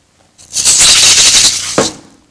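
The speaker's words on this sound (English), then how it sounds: "the maracas," Maracas shake in a steady burst of dry, hissing rattle for over a second, ending with a sharper accent, close and loud.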